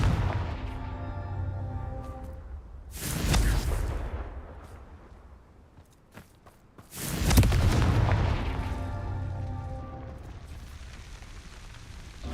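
Two powerful Confringo fire-blast spells detonate in Hogwarts Legacy, each a sudden booming burst a few seconds apart, set over a steady tonal musical backdrop.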